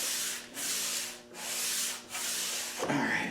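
A wooden board for a tongue-and-groove cabinet door is hand sanded in long, steady back-and-forth strokes, loud and close, with short pauses between passes.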